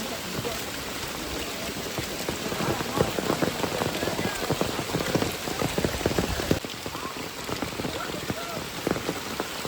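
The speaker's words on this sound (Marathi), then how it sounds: "इकडे पाऊस बघा किती आहे पण" Heavy monsoon rain pours steadily over the Konkan countryside, with water running off the roof tiles. The downpour is loud, dense and unbroken throughout, a continuous close-up hiss of drops drumming on surfaces.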